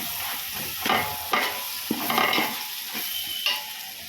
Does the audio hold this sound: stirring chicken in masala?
yes